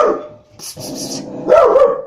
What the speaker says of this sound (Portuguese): o meu cachorro. Acho que ele se assustou porque eu dei grito aqui agora